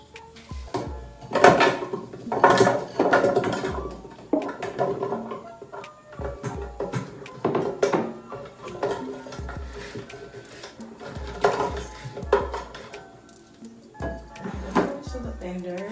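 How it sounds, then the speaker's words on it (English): Chunks of carrot and starfruit drop and clatter into a blender jar in several bursts, close by, with hard knocks and rattles between quieter pauses. "First, I'm gonna add the fruits to the blender."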